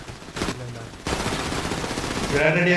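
Gunfire from a big gun in a shooting video game, a loud sustained burst of rapid shots over the back half, with a brief earlier crack and voices talking faintly underneath.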